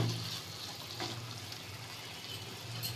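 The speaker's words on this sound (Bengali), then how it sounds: "চুলার আঁচ লোতে করে দিয়ে 2 থেকে 3 মিনিট নেড়ে চেড়ে চিনির সাথে আমগুলি মিশিয়ে নিব" Raw mango pieces stirred with sugar in a pan over low heat give a soft, steady sizzle with faint scraping, close and continuous throughout.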